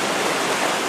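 River water flowing near a large rock in North Sumatra, a dense, steady rushing hiss heard close and unbroken for a brief moment.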